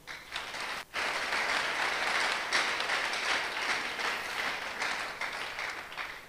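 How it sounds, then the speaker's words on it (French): A church congregation applauds its pastor, steady broadband clapping from many hands filling the room, with a brief dip near the start before the applause resumes and holds evenly to the end. "Je pense qu'on peut l'applaudir."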